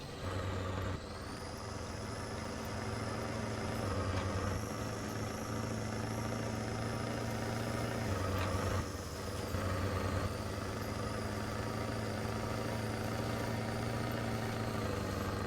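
A heavy truck engine in a video game hauls a long trailer in Michigan, a steady low diesel drone with brief air-brake hisses, continuous and close throughout.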